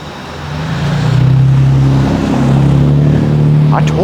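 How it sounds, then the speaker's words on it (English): A car drives along a road in Frostburg, Maryland, its engine a steady loud hum that swells and eases, with a brief higher whine near the end. "That's his car, I take it."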